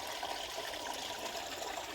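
Spring water flowing through a wet, muddy lowland field, a continuous soft trickling and gurgling stream with no voices.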